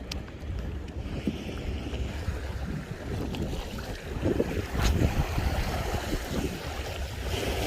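Wind blowing steadily across the shore at Wando during walking flounder fishing: a constant rumble and buffeting against the microphone, with faint wash from the water beneath it and no talking.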